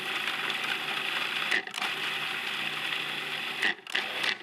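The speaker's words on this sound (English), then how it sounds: "we're just going to pulse process this to finely chop." A food processor pulses parsley, scallions and chili pepper with a steady close motor whir, cut by brief pauses into a few bursts, loud and with no voices over it.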